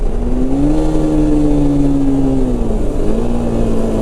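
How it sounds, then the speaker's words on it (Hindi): A motorcycle engine hums steadily after a downshift from around 80, its pitch easing lower as the bike coasts down. The sound is loud and continuous, with no voices. "बाइक देख रहे हो अभी आराम से स्लो हो गई"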